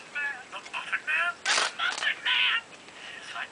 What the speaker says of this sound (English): That's my email ringtone, by the way.